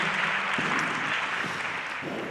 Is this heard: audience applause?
yes